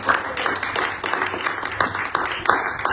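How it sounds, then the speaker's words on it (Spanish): Church congregation applauding, a short burst of dense clapping that sounds fairly close and holds steady for a few seconds. "demos un fuerte aplauso al Señor"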